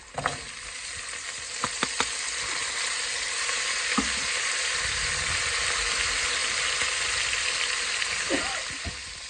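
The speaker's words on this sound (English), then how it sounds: "I'm going to go ahead and add my onion." Chopped onion hitting a hot frying pan for a weeknight potato soup, a loud steady sizzle that holds for the full stretch, with a few sharp clinks and scrapes of stirring near the start and end.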